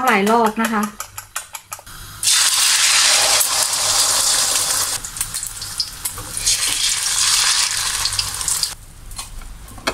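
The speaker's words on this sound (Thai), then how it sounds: "เดี๋ยวจะทอดไข่เจียวก่อนนะคะ" Eggs for a Thai omelette (khai jiao) frying in a pan, a loud steady sizzle that bursts in after a quiet start with a brief voice, then holds strong with clatters and scraping before easing near the end.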